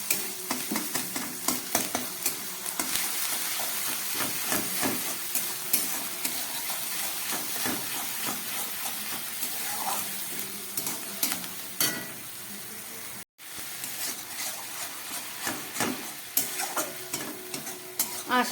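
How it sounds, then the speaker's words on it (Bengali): Strained yogurt frying with ginger and garlic in a pan as it is stirred, giving a continuous close sizzle with frequent scraping stirs. "এবার আমি দিয়ে দিচ্ছি এর মধ্যে জল ঝরানো টক দই 2 চামচ।"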